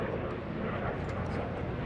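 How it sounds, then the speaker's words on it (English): Military jets from the Warrior Demo Team fly tight-radius turns at the 2018 NAS Oceana Airshow, producing a steady, loud jet roar that fills the whole stretch without a break. "Each aircraft trying to go as tight as they can for the radius in the sky."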